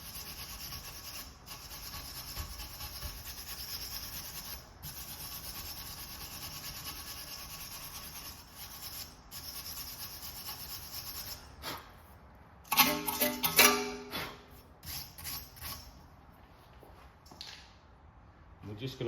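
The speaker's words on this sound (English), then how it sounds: "we're going to clean up with a wire brush." A wire brush scrubs the brake hub mating surface on a VW with electric handbrake, during rear pad and disc replacement, in repeated rasping strokes, quiet at first, then louder and more vigorous in a burst near the end.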